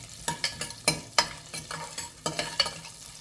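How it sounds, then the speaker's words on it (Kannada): Whole spices like cinnamon, cloves, cardamom and star anise stirred in hot oil for tempering, with a steady sizzle broken by repeated scraping strokes of the spoon across the pan, close and moderately loud. "ಒಗ್ಗರಣೆಗೆ ಹಾಕೊಂಡು ಮಿಕ್ಸ್ ಮಾಡ್ತೀನಿ."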